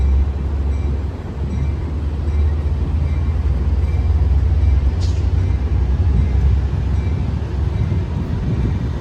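Amtrak San Joaquin train 716, led by locomotive 8308, rolls out of Emeryville station in California bound for Bakersfield, a loud, steady low rumble of engine and wheels with a brief sharp sound midway.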